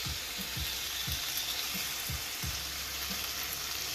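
Steady, loud sizzling of beef frying in a single layer in a hot pan, with a few low thumps and clunks scattered throughout and no talking.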